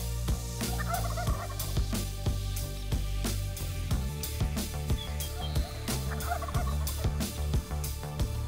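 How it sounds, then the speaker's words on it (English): A wild Merriam's turkey gobbles twice in the distance from a ridge across a canyon, each rattling call standing out over background noise broken by sharp clicks and knocks. "Well, with the turkey starting to gobble up on the ridge across the canyon from us, Amanda turned and looked at me"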